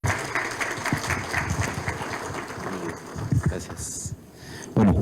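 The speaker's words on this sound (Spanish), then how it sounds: "Por favor, ingeniero Dolfer, un aplauso, por favor." An audience at a Peruvian mining and circular economy conference applauds an arriving engineer speaker, dense clapping that fades after a few seconds, with voices and rustling noise near the end.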